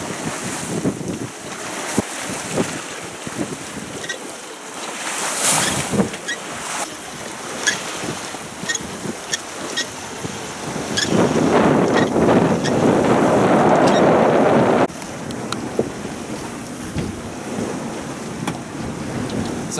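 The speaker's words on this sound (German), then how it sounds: "jetzt kommt gerade ein bisschen Wind" Wind gusts and rushing water roll steadily around a sailboat at sea off the Croatian coast, swelling into a louder, sustained blast midway before easing back, with no voices.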